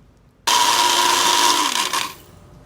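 A mixer grinder blending chutney with a little ice water starts abruptly and whirs loudly at a steady high pitch for about a second and a half, then cuts off and winds down.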